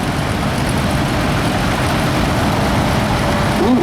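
A historic British petrol-paraffin tractor with a straight front axle running in the arena parade at the Laughton Autumn Show, a loud, steady low engine rumble that carries on evenly throughout.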